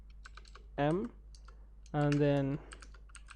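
Quick, light clicks of typing on a computer keyboard, tapping steadily throughout and close by, while a person speaks two short phrases over them.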